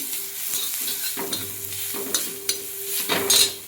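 Steady frying sizzle of turmeric in oil in a pan with stirring scrapes, a few louder clinks and scrapes toward the end, close by.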